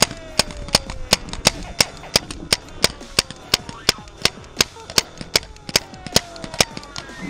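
Paintball guns firing during a youth paintball game at Camp Pendleton, California: a steady run of sharp popping shots, roughly two to three per second, ringing out clearly over faint background sound.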